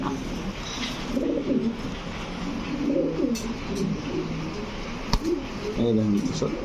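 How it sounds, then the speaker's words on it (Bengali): A long-distance racing pigeon coos in low, repeated throaty phrases at a pigeon farm, with people talking over and between the calls. "বিপজ্জনক একটা কবুতর এটা"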